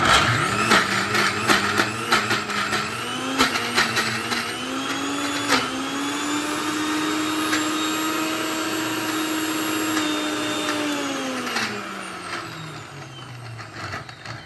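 A kitchen mixer grinder whirs steadily while grinding soaked dal into batter with added water, loud and continuous with a shifting motor pitch that winds down near the end.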